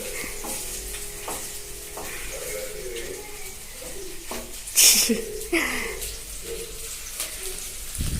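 Food with ginger-garlic fried and mixed in a pan, giving a sizzle with intermittent stirring scrapes. People talk nearby and a bird briefly coos in the background.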